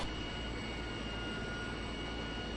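A Sikorsky Sea Stallion helicopter's engines give a steady, dense turbine roar in the Prepar3D flight simulator, constant and unbroken with no talking.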